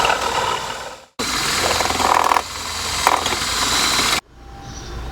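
A drill bores a hole through a 4x4 wooden post being repaired, a loud, steady grinding burst lasting about three seconds, bracketed by quieter background noise before and after.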